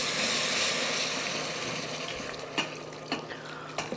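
Beef frying in a pot for soup gives a steady hiss and sizzle that slowly fades, with a few sharp clinks of a utensil near the end, no talking.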